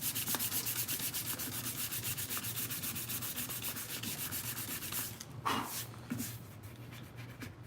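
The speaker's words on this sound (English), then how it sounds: "this little seam line right here on these is nothing. It actually sands out pretty good" Steady rapid rubbing of sandpaper across the plastic seam line of a toy Mandalorian helmet, close and continuous for about five seconds before stopping, followed by a couple of light handling scrapes.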